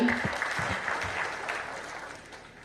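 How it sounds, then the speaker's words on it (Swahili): A crowd claps at a memorial tribute celebrating the life of Nancy Wanjiru Mugo: a sustained wash of applause that fades slightly toward the end, with a brief voice near the start. "tumpigie makofi"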